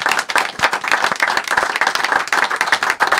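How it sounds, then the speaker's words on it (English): Audience applause fills the room in a studio chat show about football, dense steady clapping from a crowd lasting throughout, fairly loud and close with no talking over it. "he deserves a round of applause for what he's doing"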